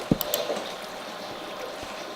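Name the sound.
water in a desert survival video game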